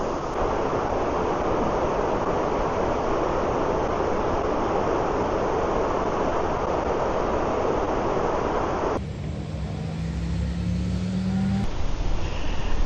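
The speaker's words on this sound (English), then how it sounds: "along the forest trail and following the river has brought me here to the base of the waterfall" Waterfall at the base of a forest river, a loud, steady broadband rush of falling water roaring continuously close by, with a brief tonal hum mixed in near the end.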